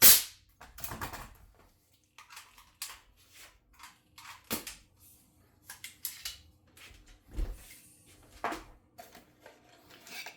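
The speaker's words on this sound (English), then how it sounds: "I'm going to grab my regular staple gun." A regular manual staple gun fires a string of sharp snapping clacks at uneven intervals, some loud and close, others softer, with faint handling rustle between them and no talking.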